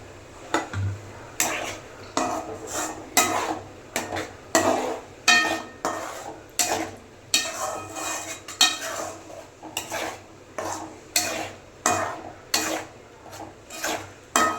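A utensil scrapes and stirs garlic kuzhambu with added water in a metal pot, producing rhythmic rasping strokes about once per second that repeat steadily over a quiet background, with no talking.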